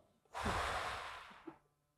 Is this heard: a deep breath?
yes